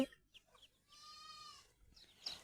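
Free-range chickens roaming outdoors on a farm, with a few faint scattered clucks and a brief higher call, heard at a distance over quiet background.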